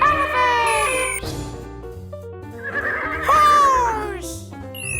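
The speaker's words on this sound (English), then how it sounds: "Horse!" A horse whinny sounds over bright children's music, with pitched tones that rise and fall and stand out clearly against the steady backing track.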